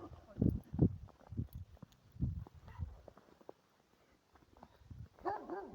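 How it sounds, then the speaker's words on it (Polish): A large dog comes running up on a hillside trail near a church and monastery, giving several close, irregular barks among footsteps, with a brief quieter stretch before other sounds return. "Raban się zrobił, bo piesek jakiś duży przybieg."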